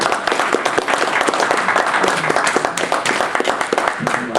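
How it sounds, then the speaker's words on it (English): Audience applause fills a water district meeting room: dense, steady clapping from many hands, loud and close, running unbroken through the whole stretch with no talk. "Certainly a round of applause."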